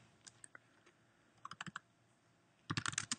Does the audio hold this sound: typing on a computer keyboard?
yes